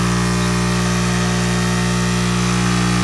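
A fuel-less generator runs with two appliances plugged in, giving off a loud, constant mechanical drone with a strong steady hum and no change in pitch or level.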